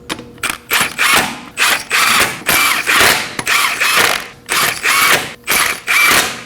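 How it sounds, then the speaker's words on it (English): A hand ratchet snugs up the lug nuts on a 2017-2024 Nissan Armada front wheel, in close, loud bursts of rapid clicking, about a dozen short runs separated by brief pauses. "Install the lug nuts by hand. And now go ahead and snug them up in a star-shaped pattern."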